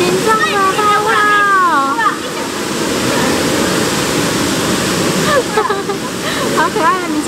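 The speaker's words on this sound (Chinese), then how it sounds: "然后可以冲水，洗一洗冲水" Tap water runs steadily into a washbasin at Tokyo DisneySea, rinsing away Mickey-shaped foam, a continuous close splashing under cheerful voices talking and laughing.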